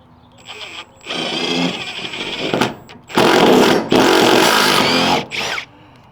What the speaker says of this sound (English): We gotta use the sawzall because when you can't cut all the way to the metal with the circ saw